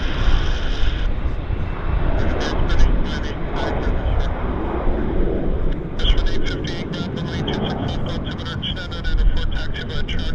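An airplane rumbles and roars at Vancouver Airport, a broad, loud engine wash heard from a plane-spotting spot with wind buffeting the microphone while people talk near it.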